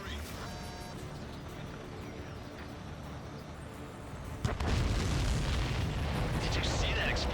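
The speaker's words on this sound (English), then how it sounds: "Did you see that explosion?" A sudden loud boom bursts in partway through, followed by a sustained rumbling roar from an aircraft explosion in Ace Combat 7 VR, after quieter background sounds.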